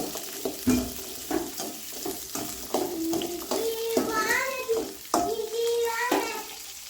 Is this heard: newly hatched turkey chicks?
no